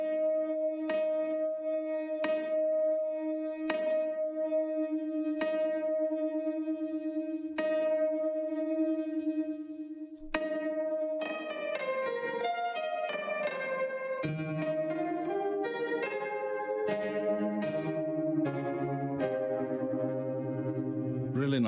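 Piano notes from a grand piano app with its reverb effect ring out with a strong reverb tail, first sustained chords and then a flowing melodic run, each note blooming and lingering in a wide space.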